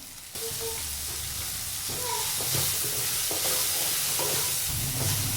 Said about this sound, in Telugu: ఇలా మళ్ళీ ఒకసారి కలుపుకోవాలి